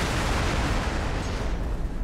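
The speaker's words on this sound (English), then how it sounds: "Explosion imminent." A large explosion in the space simulation game X4 Foundations, during the destruction of a Xenon shipyard, a loud broad rumbling blast that fills the clip and slowly tails off.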